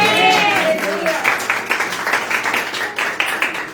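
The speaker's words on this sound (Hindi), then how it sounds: "ताली बजा के आमीन" A church congregation claps together at a sermon, a steady run of fairly loud claps that follows a voice at the start.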